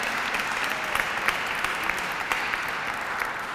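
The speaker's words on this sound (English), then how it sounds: "Let's give him a round of applause if we can." An audience at a Forbes 30 Under 30 welcoming ceremony applauds in a steady, dense patter of many hands clapping, sustained at even loudness for a few seconds.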